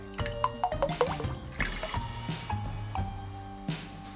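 Cooking oil pours into a bowl for cake batter, a glugging, bubbling stream with rising tones and a few drips, close and fairly loud.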